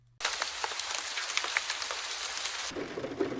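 Heavy rain falling, a dense steady downpour that starts abruptly and holds constant, close and full, then shifts to a slightly different patter near the end, with no voices.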